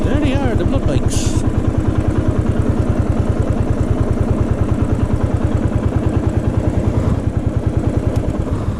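Blood bike motorcycles arriving, their engines running with a steady, loud rhythmic chugging close by throughout, with a brief higher clatter early on and a voice faintly underneath.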